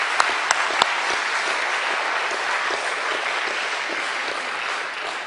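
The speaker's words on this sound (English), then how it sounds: "give them a round of applause." An audience at a London talk on prisons gives a sustained round of applause, dense and steady with a few sharper claps early on, continuing to the end.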